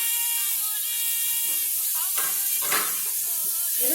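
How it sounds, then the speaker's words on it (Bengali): Chili powder, turmeric, roasted spice mix and garam masala frying and being stirred in a pan for Bengali banana-flower chops, a continuous hiss and sizzle with scraping stirs and a voice speaking over it. "এবার ভালো করে কষিয়ে নিতে হবে।"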